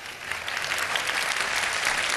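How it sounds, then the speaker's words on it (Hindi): Studio audience on a televised Iftar show clapping together, a dense, even wash of applause sustained from start to end without voices standing out. "वो तालियां बजा दें"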